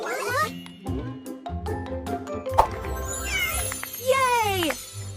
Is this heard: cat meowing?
yes